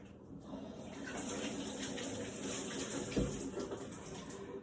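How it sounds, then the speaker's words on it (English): A kitchen tap runs steadily while hands are rinsed under it, a faint, continuous hiss of flowing water with slight splashing. "let me rinse my hands real quick"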